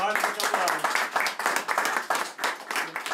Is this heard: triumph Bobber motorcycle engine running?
no